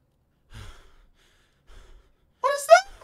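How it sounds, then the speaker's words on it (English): A character in the video game Summer of 58 breathes heavily, with two faint, soft breaths followed by a louder, voiced gasping exhale, close and quiet, with nothing else heard. "Why my character breathing so hard?"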